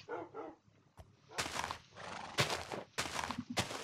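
A horse in Minecraft makes repeated loud, harsh neighs and snorts in quick bursts over steady game background noise.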